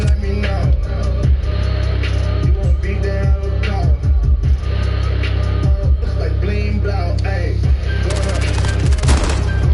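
Gunfire in a video game firefight, with sharp reports scattered over a dense, loud background of game sound and other shots. A sniper rifle is among the weapons firing, and no one speaks.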